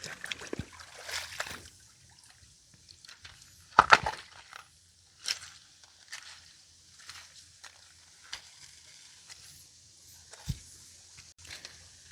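Footsteps wade through a shallow creek at a nature center, with soft splashes, trickles and sloshes spaced irregularly over quiet running water, one sharper splash standing out among the fainter steps.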